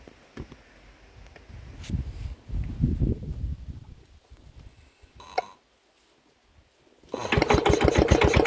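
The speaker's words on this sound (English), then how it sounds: "How to start a Petter Aa1 diesel" A Petter AA1 single-cylinder diesel on a cold winter morning: scattered mechanical knocks and cranking bursts, a short gap, then the engine catches and runs with a loud, steady rapid chugging.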